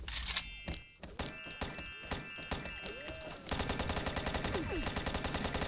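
Repeated gunshots from an XSHOT shooter game, a weapon firing steadily until its magazine runs empty, with rhythmic thumping shots, metallic clicks and effects, then a faster regular string of shots near the end.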